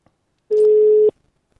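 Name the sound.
telephone ringing on an outgoing call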